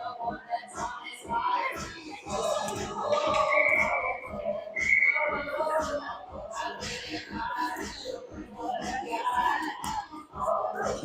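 At a 12U youth ice hockey game in an arena in Eagle, a referee's whistle gives two short, shrill blasts under steady play-by-play commentary and rink noise.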